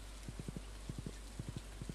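A horse's hooves clip-clop in the Stardew Valley farming game, steady trotting beats in quick clusters of three or four, close and crisp over a low, constant background hum.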